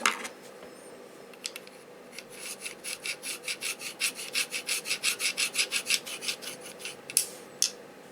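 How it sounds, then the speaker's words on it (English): A flathead screwdriver tip scratches across an airsoft part's Cerakote coating, making a close, rhythmic run of about a dozen rasping strokes that build steadily, then a few sharper scrapes at the end. "It's not coming off that much, but it is scratching. This is the tip of the screwdriver. It's a flathead screwdriver."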